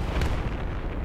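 A rumbling explosion in the video game Battlefield 3, a dense loud low-heavy blast that fills the whole brief moment.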